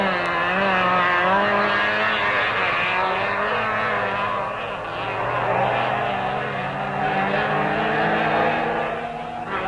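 Works Mini race car driven by John Rhodes in a 1967 autocross event, its engine roaring loudly and continuously with rising and falling revs, close and dominant throughout.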